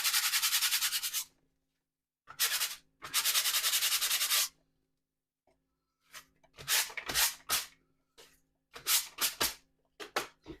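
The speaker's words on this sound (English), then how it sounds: "Or you can take a very light sandpaper." Light sandpaper rubbed over gold and silver foil, giving several short bursts of dry, close scratchy sanding strokes separated by quiet pauses, with quicker choppy strokes toward the end.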